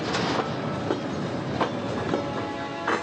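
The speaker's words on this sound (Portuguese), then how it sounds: "A carga segue de trem até o Porto de Santos em mais 3 dias e meio de viagem." A freight train hauling soybean cargo toward the Port of Santos in Brazil rumbles steadily past, with a continuous broadband roar of wagons and faint rhythmic wheel clacks throughout, no voices.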